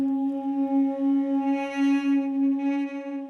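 A sustained synthetic tone with a steady pitch, its texture shimmering and slightly smeared as tiny fragments drift around it, with no talking.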